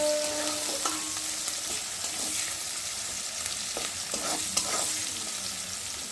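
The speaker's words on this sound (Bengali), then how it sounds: "পেঁয়াজ কুচিটা দিয়ে ভালো করে ভেজে নেব।" Chopped onion frying in a pan, a continuous close sizzle with occasional stirring scrapes and clinks, no voices present.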